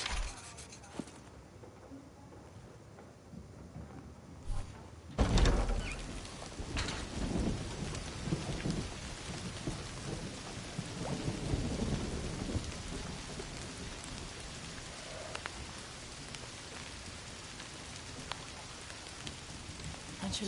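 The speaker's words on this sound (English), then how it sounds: "Don't you love rain?" Steady rain pours down with a sudden loud crack of thunder that rolls and rumbles for several seconds before fading back into the continuous hiss of rainfall.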